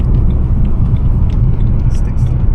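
A cheap BMW with a 2-litre diesel engine drives along, heard from inside as a loud, steady low rumble of engine and road noise throughout.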